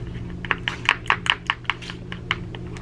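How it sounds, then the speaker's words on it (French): Lotion is stirred in a container, giving a quick series of sharp clicking taps, like a utensil knocking the sides, at an uneven rhythm against a low, steady background hum. "vraiment prends le temps de bien mélanger ta lotion"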